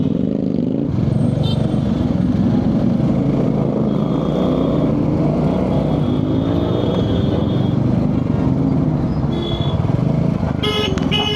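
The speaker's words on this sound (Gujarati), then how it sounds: "આગળ જાય છે એક ટ્રક જાય છે બહુ વધારે લોડ કરીને જાય છે" A heavily loaded truck crawls through a traffic jam, its engine rumbling loud and near, with other vehicles running around it and brief horn toots near the end.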